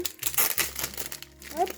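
Crinkly plastic packaging of an anime figure being wrestled open: rapid close crackling and rustling in short bursts, with someone speaking French over it.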